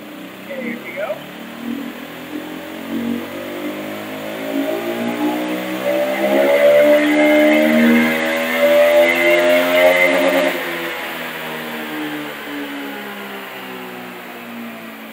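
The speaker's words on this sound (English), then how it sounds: "So this is the first pull with no load." A car-type engine revs up on an inertia dyno during its first pull with no load. The pitch climbs smoothly over several seconds, swells loud, then settles back, heard up close with no talk.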